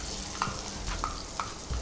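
Chopped onion fries in hot oil, a steady sizzle broken by four quick scrapes of a spoon stirring the pan at roughly even intervals, close and without talk.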